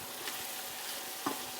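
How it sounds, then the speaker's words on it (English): Turkey chili being stirred in a pot makes a continuous low frying hiss, with one clear scrape of the spoon near the end. No one speaks. "one more little stir up"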